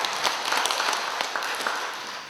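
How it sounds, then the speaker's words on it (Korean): Congregation applauding in a church after a choir's hymn: a short burst of scattered hand claps, moderately loud and fading toward the end. "박수로 하나님께 영광입니다."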